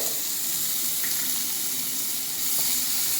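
Chopped onions with ginger garlic paste sautéing in a kadai pan, giving a steady, close hiss and sizzle that holds at an even level throughout with no talking.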